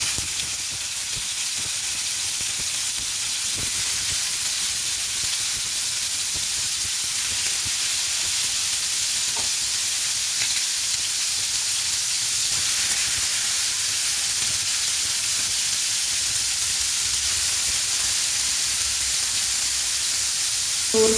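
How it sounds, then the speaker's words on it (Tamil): Marinated fish with curry leaves fries in hot oil in a pan, giving a continuous bright hiss and sizzle that holds steady at close range, with no talking. "இப்போ நம்ம பரட்டி வச்சிருந்த மீனை சேர்த்துக்கலாம்."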